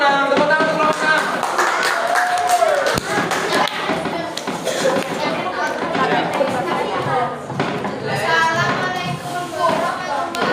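A classroom group claps for the sixth student group presenting in a religious studies lesson, scattered uneven clapping mixed with taps, thumps and lively voices chattering over it.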